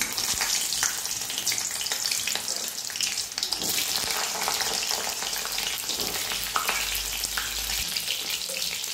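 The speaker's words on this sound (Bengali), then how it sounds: "প্রথমে আমি বেগুনগুলো তেলের মধ্যে দিয়ে দেবো" Eggplant pieces fry in hot oil, a loud, dense hiss of bubbling oil that holds steady throughout with occasional faint clinks and stirring.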